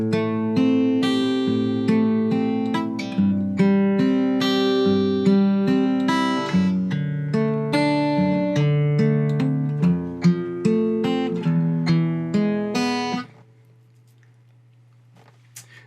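Fingerpicked acoustic guitar plays the second part of the intro to a song, a steady flowing arpeggio of plucked notes for about thirteen seconds before a low note rings out alone and fades.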